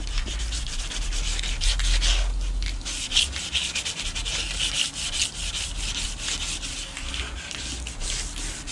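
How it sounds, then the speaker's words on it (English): Painted metal on a 1995–2000 Chevy OBS truck front-end part scuffed by hand with an abrasive, a loud, continuous close-up rubbing and sanding rasp in steady back-and-forth strokes. "we just want to scuff it up to where uh, we get down to a nice paintable surface"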